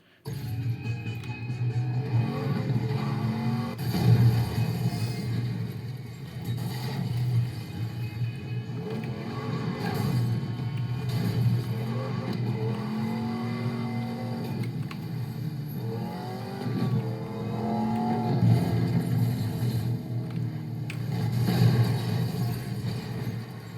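A car driven in Need for Speed on PC, its engine droning steadily with rising and falling revs throughout, loud and continuous with no talk over it.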